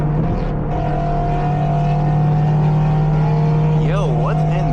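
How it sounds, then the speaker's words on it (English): A Lexus IS 350, thought to carry a V8, idles loud and close with a steady low drone at a night car meet, then its engine note rises and wavers as it revs briefly near the end. "That sounds like a V8."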